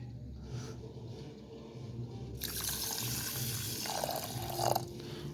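Foxtail millet being washed in a bowl under a running kitchen tap for payasa, with water first trickling and then gushing steadily into the bowl, splashing and sloshing louder toward the end.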